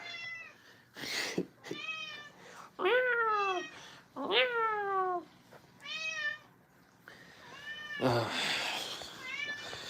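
A cat meows repeatedly, a string of clear, close, rising and falling meows of varying length with short pauses between, fairly loud, with some rustling noise toward the end.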